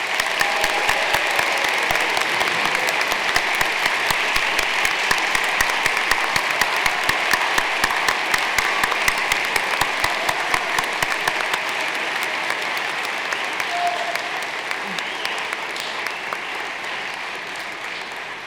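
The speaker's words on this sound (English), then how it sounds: "And I want to give you one last round of heartfelt applause." Sustained audience applause fills a hall at the Landmark College spring 2023 commencement, a dense, steady wash of many hands clapping that holds loud throughout and tapers only slightly near the end.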